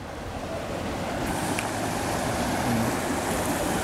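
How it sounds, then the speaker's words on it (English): A small man-made river running through a park makes a constant rushing wash of water, steady and fairly loud throughout, with a faint outdoor breeze and no speech. "they have this nice little river that runs through this park"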